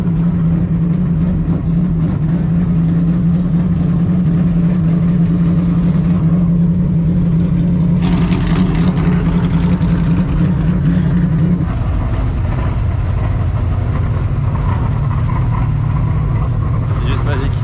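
Race cars roar past during a night session of the Daytona Classic 24 Hours, with a loud steady engine drone that shifts pitch as cars pass, and people talk over it.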